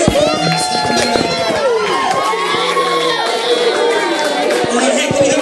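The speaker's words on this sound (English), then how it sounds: "All right, round of applause!" A crowd of children at a church Minute to Win It game cheering and shouting loudly, with clapping and excited voices overlapping continuously nearby.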